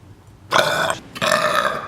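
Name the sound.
burping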